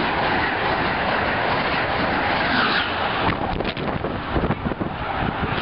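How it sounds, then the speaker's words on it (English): A train pulls into a station platform, a steady loud rumble with wind noise building into rhythmic clickety-clack of wheels over rail joints as the cars pass close by. "Train approaching."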